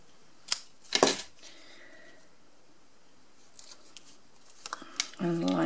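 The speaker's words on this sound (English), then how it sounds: "actually I'm just going to trim a little bit off there." Scissors trimming a paper tunnel card, giving a couple of quick, close snips early on, followed by a quiet stretch and then a person speaking softly at the end.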